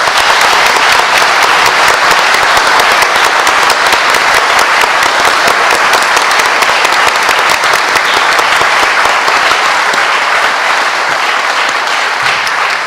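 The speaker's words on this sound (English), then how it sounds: "Would you help me in giving them a round of applause?" Dense, steady applause from an audience at a mayoral candidate conversation event in Noblesville, filling the whole stretch loudly and evenly with no voices.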